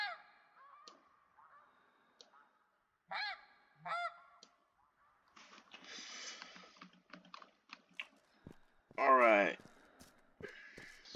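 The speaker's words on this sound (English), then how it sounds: "Wait, there's some snow geese over here." Snow geese in the hunting game theHunter Classic give repeated honks, a few short calls and then a louder burst, over quiet keyboard tapping.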